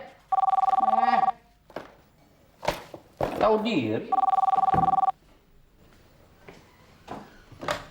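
Telephone ringing late at night indoors, two loud bursts of a bell-like electronic ring about a second long each, separated by footsteps, knocks and a short spoken remark.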